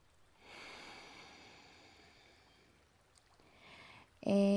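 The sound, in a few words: exhaling breath during yoga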